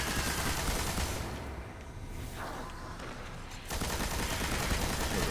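Rapid gunfire during a Destiny Nightfall Strike, a dense, loud barrage that thins briefly in the middle before resuming at full intensity, with no talking.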